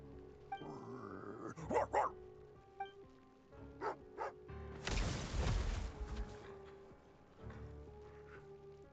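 Dog barking and growling in the Genshin Impact video game, heard as a few sharp, fairly quiet barks between gaps, with game sound effects and a burst of noise partway through.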